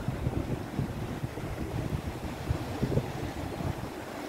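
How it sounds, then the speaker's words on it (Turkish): Surf rolls in at Maremonte public beach in Northern Cyprus as a steady, dense roar of breaking waves mixed with strong wind buffeting, with no voices. "Burası Maremonte halk plajı."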